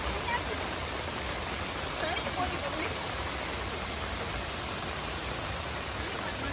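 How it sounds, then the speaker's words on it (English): Heavy rain pours and cascades down steep rock slopes as small waterfalls at the Kanheri Caves in Sanjay Gandhi National Park, making a constant broadband rushing hiss with no breaks. "the real beauty of the rain when it's cascading down the steep slopes of the rocks, creating small waterfalls all around"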